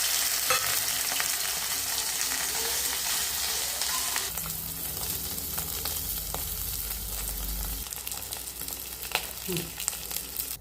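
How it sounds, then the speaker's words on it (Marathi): Paneer pieces frying in ghee in a pan, a steady dense sizzle that stays close and even throughout, with a few brief scrapes and a low rumble partway through, no voices. "आता मी सुरुवातीला तुपामध्ये पनीर भाजून घेणार आहे।"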